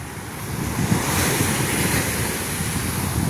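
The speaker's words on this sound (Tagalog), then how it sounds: "Yung alon, ayan. Ang ganda." Ocean waves at Botolan, Zambales, wash continuously in a steady roar of surf, with wind noise buffeting the microphone and no talking.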